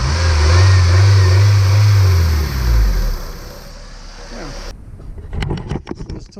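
A car engine, fitted with a newly installed fuel pressure gauge, revs in a steady low drone for a few seconds, then drops away; afterward faint clicks and rustling follow, with a voice talking.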